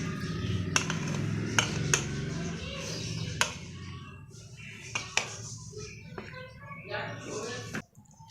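A spoon mixes chickpea chaat ingredients in a bowl, scraping and clinking against the sides in irregular sharp ticks under a low background hum, with a voice speaking.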